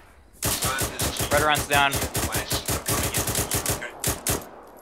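Gunfire in the military video game ArmA 3 during a combined-arms operation: dense, loud, close volleys of rapid shots in an uneven rhythm, with radio chatter briefly heard among them.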